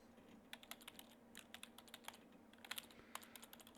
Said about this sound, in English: Oh, a keyboard. How familiar.